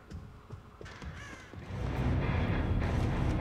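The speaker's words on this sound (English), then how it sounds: "Oh, birds. The birds are calling my name." Crows caw over a growing wash of ambient game sound in the horror video game Dead by Daylight, a few harsh calls standing out early before a steady, loud background swells beneath them.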